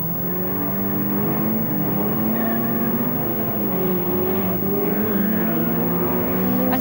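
Saloon race cars roar around the Mallory Park circuit during a Class B race, a continuous loud engine drone with shifting pitch as several cars pass, and no voices.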